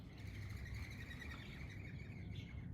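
Many birds chirp and twitter together in a busy, continuous chorus over a low background rumble, with no speech.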